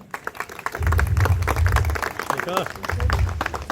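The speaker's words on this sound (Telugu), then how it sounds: "వారిని గట్టిగా మరి క్లాప్స్ కొట్టండి" Audience clapping in bursts at an anniversary function while a chief guest and his wife are honoured on stage; someone talks loudly over the applause into a microphone.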